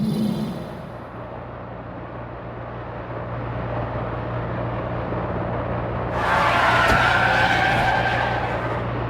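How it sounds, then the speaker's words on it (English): Loud sustained tyre skid and engine roar from a racing car in an F1 Manager 2024 race, rising into a harsher, brighter screech near the end, close and continuous with no talk. "that was a crash and a half"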